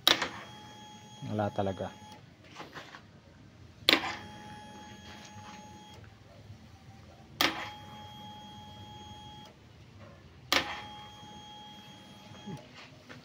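A KTM Duke 200's starter relay clicks as the engine fails to start: four sharp clicks spaced a few seconds apart, each followed by a steady electronic tone, with a brief spoken remark near the start.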